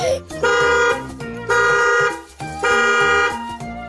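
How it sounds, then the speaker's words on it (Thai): A car horn pressed from inside a car to call for help, blasting in three long loud honks separated by short pauses. "รถพ่อก็มีแตรรถเนี่ยอ้าวกด"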